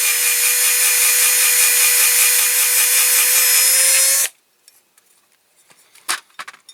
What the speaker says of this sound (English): I am going to have to file the end off the rivet